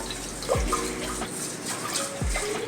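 Cold water runs and sloshes over raw white rice in a pot being rinsed, with a couple of splashy pours and swirls, fairly close and moderately loud, no voices.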